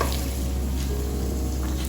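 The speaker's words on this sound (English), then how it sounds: "After frying the vegetables in the oil for 2 minutes, then add the tomatoes." Mixed vegetables fry in hot oil for a sambar, giving a steady, soft sizzle that stays even and close throughout with no talking.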